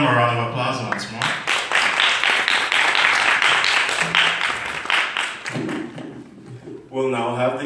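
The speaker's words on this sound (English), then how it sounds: "Let's give them a round of applause once more." An audience at a beauty pageant coronation bursts into applause, a dense, close crowd of clapping that lasts several seconds. It fades as a presenter's voice returns.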